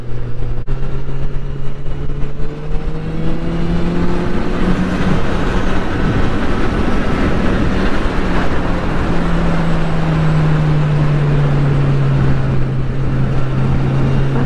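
A 2022 Honda CB1000R Black Edition motorcycle accelerates on the road as the throttle is wound on, engine pitch rising then easing under strong wind rush, loud and close throughout.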